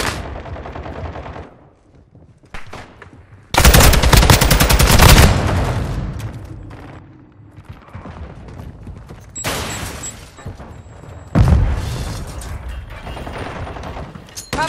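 Call of Duty Modern Warfare 2 multiplayer combat: loud bursts of automatic gunfire and blasts, likely including a flash grenade, erupt in several long volleys separated by quieter stretches of distant shooting and mechanical clatter.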